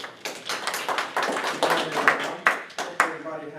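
A small audience claps before a persuasive speech, with a loose scatter of individual claps, fairly close and uneven rather than a dense roar.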